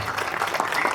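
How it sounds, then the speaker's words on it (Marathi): Audience applause at a Women's Day event, a brief dense patter of clapping heard up close, steady and fairly loud for about a second. "सर तुमच्यासाठी खरं जोरदार टाळ्या झाल्या पाहिजेत."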